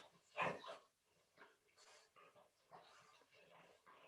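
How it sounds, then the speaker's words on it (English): Dog scratching and whimpering indoors, heard as faint, scattered scrapes and small whines in short bursts, one louder burst near the start, with quiet gaps between. "Sorry about my dog freaking scratching."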